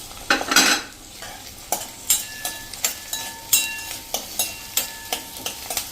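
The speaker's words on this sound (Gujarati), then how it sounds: "આ રીતે 1 જ મિનિટ આપણે સ્લો ફ્લેમ ઉપર ચલાવી લેશું" Garlic, ginger and green chilies stirred in a hot pan over a low flame for brinjal sabzi, a steady sizzle under a series of rhythmic spoon scrapes and clinks against the pan, close and clear.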